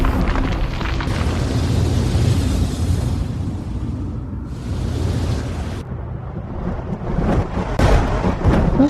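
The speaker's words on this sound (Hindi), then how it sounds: "आसमान तो साफ है, तो फिर ये बादल का गरज रहे।" Loud, continuous rumbling thunder in a Hindi TV fantasy series fills the whole stretch with heavy low roaring and bursts of crackle, with no voices over it.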